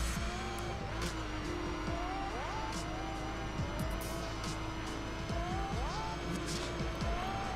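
Engine of a RUF 3400K in The Crew racing game, a steady loud drone from start to finish, with rising gear-change sweeps and occasional tire squeal.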